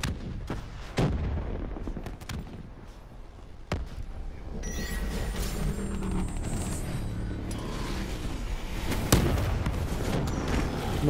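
Gunfire in the shooter game Call of Duty: Black Ops III, sharp isolated gunshots cracking early, then sustained rapid bursts and booms layered over a rumbling battle backdrop, loud and close.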